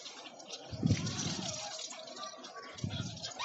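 Water poured over the exhaust of a Honda Supra X 125 motorcycle during polishing, splashing in two short gushes close by with a steady watery wash between them.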